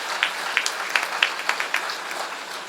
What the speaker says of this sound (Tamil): ஒரு உற்சாகமான கரகோஷம்